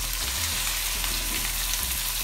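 Chicken frying in a karahi, a loud, steady, dense sizzle that fills the whole stretch without pause, with no voices.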